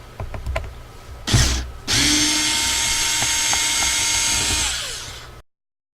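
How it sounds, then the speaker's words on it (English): A cordless power drill unscrews the screws from an outdoor LED light fixture. First come a few clicks and a short burst, then a steady, loud whir that lasts several seconds and winds down. No one speaks. "I'm going to have to do a little unscrewing."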